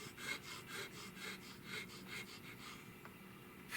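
A worn hand cutting tool carves a new wooden stock for a Spanish-made Richland Arms 20-gauge shotgun, producing faint, quick, rhythmic scraping strokes that are close but quiet, with no talk.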